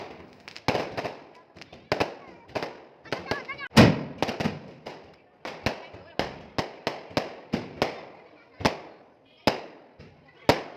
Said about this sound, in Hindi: इतनी ज़्यादा पटाखों की आवाज़ थी